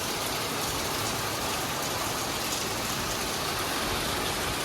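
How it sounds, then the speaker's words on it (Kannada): Heavy rain pours down in Goa, a dense, unbroken roar of drops beating on surfaces, loud and constant with no voices. "ಮಳೆ ಬೇರೆ ಫುಲ್ ಮಳೆ ಬೀಳ್ತಿದೆ"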